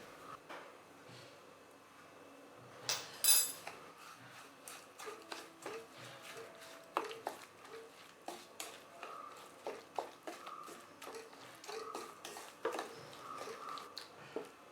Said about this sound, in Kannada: ರುಚಿಗೆ ತಕ್ಕಷ್ಟು ಉಪ್ಪು ಹಾಕಿ ಎಲ್ಲನೂ ಚೆನ್ನಾಗಿ ಮಿಕ್ಸ್ ಮಾಡ್ಕೊಳ್ಳೋಣ